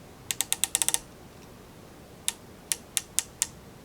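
Rifle scope windage turret being turned, giving a quick run of about eight crisp, close clicks, then five more spaced-out clicks after a pause, a quarter inch per click at 100 yards.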